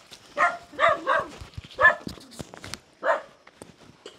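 Dogs bark in several short bursts outdoors in a Vietnamese rural setting, loud and close, with a few fainter yips and rustling between them.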